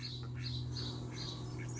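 Busy, repeated bird squawks and chirps over a steady low hum, continuous and fairly close, with no voices.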